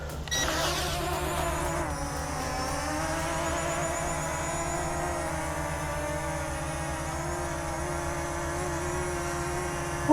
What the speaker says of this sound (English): unlock the motors, which are down and out on this particular one. So we're gonna go ahead and do down and out. One key takeoff.